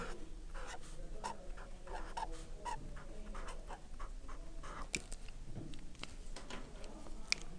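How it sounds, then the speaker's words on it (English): Pen or marker scratching steadily across paper or a board while a signed-number arithmetic problem is written out by hand, with quick strokes and taps in an irregular rhythm, close and fairly quiet, with no talk. "Let me write the rest of the problem."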